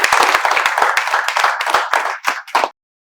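A few people in a spoken English class clap in close, loud, rhythmic bursts that speed up, thin out and stop abruptly, leaving silence at the end.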